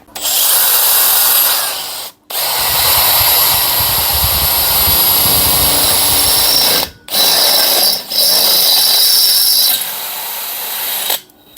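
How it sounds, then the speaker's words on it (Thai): A Makita DHP490 cordless impact drill bores with an 8 mm Makita bit, a loud continuous high motor whine broken by brief stops and restarts, close and alone. "มาทดสอบดอกที่ใหญ่ขึ้นนะครับ เป็นดอกเบอร์8ซึ่งดอกเจาะที่ผมใช้ก็คือดอกเจาะของมาคิต้าเช่นกันนะครับ"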